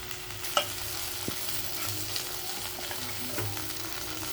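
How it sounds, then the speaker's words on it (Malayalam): Half a teaspoon of garam masala heating in a pan for aloo gobhi, a low steady sizzle with faint stirring scrapes and a couple of light utensil taps, close and quiet, no voices. "ഈ മസാല നമുക്ക് നല്ല ചൂടാക്കാം."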